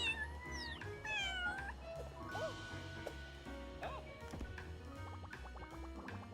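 Cats meow repeatedly in a video game that resembles the Goose Game, with several rising and falling meows over game music and sound effects at moderate level.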